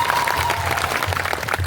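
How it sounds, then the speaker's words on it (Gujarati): Applause from an audience at a village meeting for World Tribal Day in Ambdungar, Khadla: dense, steady clapping that holds fairly loud and even throughout, with a low hum underneath. "એમના માટે જોરદાર તાળીઓ પાડી છે."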